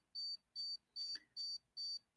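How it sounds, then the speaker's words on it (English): A Dolphin treatment unit gives five short, evenly spaced electronic beeps while its button is held down, clear and close in an otherwise quiet room. "Now that the unit is on, I can push this button down and you'll hear it beeping."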